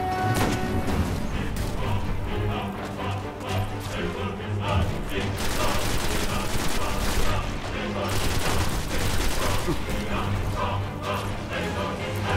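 Gunfire in the PlayStation 4 game Destiny, with rapid bursts of shots and crashing impacts in dense, loud volleys, mixed with game effects and a voice talking intermittently.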